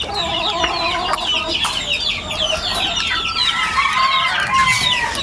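Hens and roosters in a breeding pen with game fowl, busy overlapping clucking and squawks close by, steady and loud throughout with no talk.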